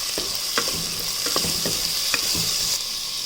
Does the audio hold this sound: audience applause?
no